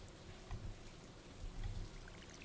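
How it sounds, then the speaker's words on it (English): Soft, steady rain patters in Stardew Valley, a faint continuous hiss with gentle low swells and no voices. "It's raining."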